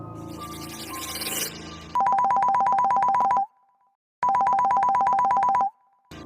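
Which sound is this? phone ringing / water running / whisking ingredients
phone ringing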